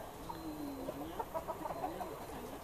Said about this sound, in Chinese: 哇，这都是老公鸡啊！